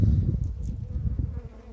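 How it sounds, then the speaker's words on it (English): A swarm colony of honeybees in a hive on a hot Texas day hums with close, loud, continuous buzzing that swells and dips slightly, with no talking. "we'll see what these bees are up to on the inside"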